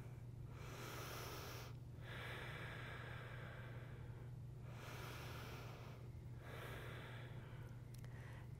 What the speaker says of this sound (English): Huge breath in here.